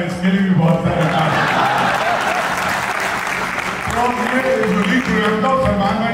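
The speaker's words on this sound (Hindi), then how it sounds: "इसके साथ जो आदमी बैठा है इसके लिए भी बहुत तालियाँ" An audience at a comedy, music and poetry evening held by a Pakistani arts council applauds in a loud, sustained burst of clapping. A host's voice carries over the applause.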